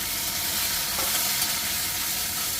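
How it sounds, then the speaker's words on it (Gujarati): Onions, garlic and tomatoes fry in a pan for dal fry, giving a steady, close, dense sizzle that holds evenly throughout with no voices. "કાંદા ને બધું ટામેટા બે કાંદા લસણ ને બધું ફ્રાય થાય છે ફર્સ્ટ ક્લાસ"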